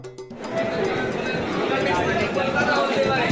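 Crowd chatter fills New Jalpaiguri railway station as a close, busy babble of many voices with scattered footsteps and clatter, a constant hubbub running throughout.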